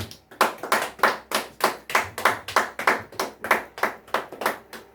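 A church congregation claps together in a steady, even rhythm, about a dozen sharp beats spread through the stretch, with no talking over them.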